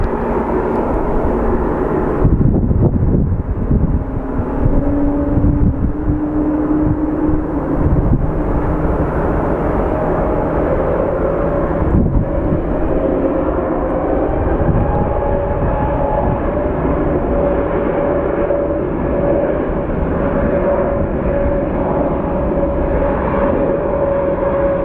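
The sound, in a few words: airplane taking off at Sky Harbor airport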